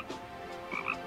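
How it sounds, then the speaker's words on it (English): A frog croaks in the cozy video game Cozy Caravan, a couple of soft, short croaks over a quiet ambient music bed. "Oh my god, another frog!"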